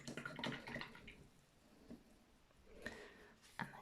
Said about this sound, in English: now that I've finished with this paintbrush, I'm just going to wash it off in some water.